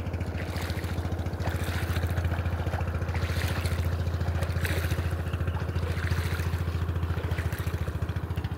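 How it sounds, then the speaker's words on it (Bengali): A small boat loaded with guavas or papayas approaches, its motor chugging in a steady, rapid rhythm with a low hum and a light clatter, moderately loud and continuous, with no talking. "দেখেন ছোট্ট নৌকা বোঝাই পেয়ারা অথবা পেঁপে নিয়ে আসছে"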